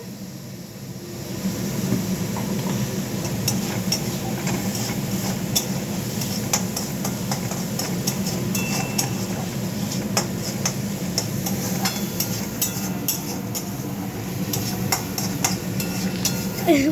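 Onions fry in a pan while palak paneer cooks, a steady close sizzle with light scraping and clicking of stirring running throughout, fairly loud and unbroken.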